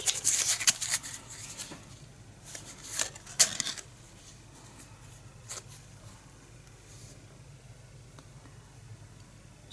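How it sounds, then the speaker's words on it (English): Arkham Horror playing cards riffle and snap in a few quick shuffles close by, a cluster of sharp flutters in the first four seconds, then quiet handling. "give it a couple of shuffles."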